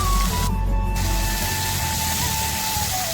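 Tomato paste hits a hot pan of ginger-garlic paste for a cauliflower curry, giving a short burst of sizzling hiss near the start over a steady kitchen background hum.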